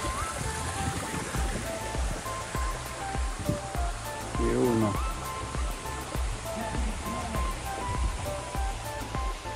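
Antong Falls runs low during the dry season, a steady close rush of water over large rocks that carries on throughout while people talk and call out over it.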